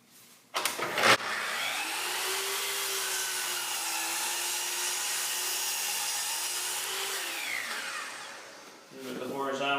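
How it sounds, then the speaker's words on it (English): A miter saw cutting wood: the motor spins up to a loud, even whine that holds for about seven seconds, then winds down. A brief clatter comes at the start and another sound follows at the end. "So now I'm going to go over a miter saw."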